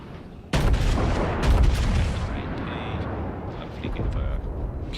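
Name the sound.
naval gunfire at the Tirpitz in a warship video game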